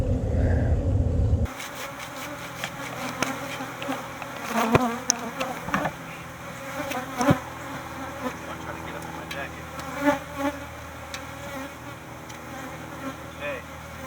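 Feral honey bees swarm and buzz around a hive inside a giant cactus during a rescue, a close, dense drone with individual bees zipping past the microphone, and brief muffled handling noise at the start.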